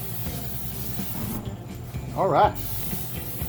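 Cooking spray hisses onto the grate of a Burn Shop griddle set on a Weber kettle grill in a short, steady burst, with someone talking briefly before and around it.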